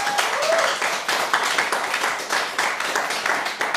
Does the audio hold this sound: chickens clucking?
no